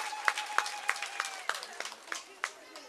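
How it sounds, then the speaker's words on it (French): Audience applause at a ceremony in Benin, a short burst of sharp, separate claps from a modest crowd, fairly faint and thinning out over a few seconds. "Je voudrais qu'on l'applaudisse très fort."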